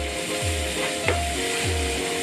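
Mince meat with extra-hot chili and spices sizzling in a frying pan while being stirred, a steady close fry with three low scraping sweeps of the utensil and no talking.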